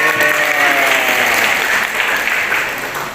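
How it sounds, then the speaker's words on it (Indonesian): Audience applause at a children's song outreach event, a sustained round of clapping from a crowd of adults that runs throughout and tapers slightly toward the end. "Bu, saya minta tepuk tangan buat kita semua yuk."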